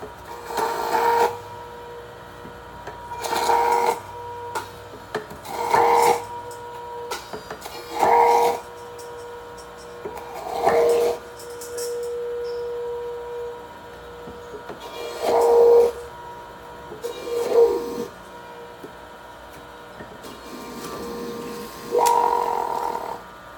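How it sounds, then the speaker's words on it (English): A PURE juicer grinds carrots and apples in repeated loud bursts of several seconds each, separated by quieter pauses, close by with no talking. "And now we'll grind our last carrot."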